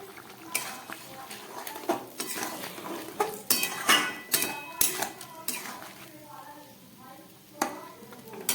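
Utensils clatter and scrape against a pan as cashew paste goes into a cauliflower and potato curry, a series of sharp knocks and stirs at close range with quiet gaps between.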